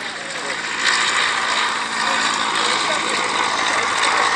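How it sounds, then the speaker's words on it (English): The earliest flying de Havilland Moth biplane taking off at an airshow, a steady droning piston engine roar filling the air at a distance, with a voice speaking over it. "The aircraft you're seeing just getting airborne now"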